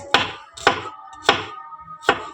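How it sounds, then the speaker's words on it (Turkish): Knife chopping onions by hand on a cutting board while preparing içli köfte, four sharp, evenly spaced chops close up with quiet pauses between strokes. "Bu şekilde bir kilo soğanımızı doğrayacağız."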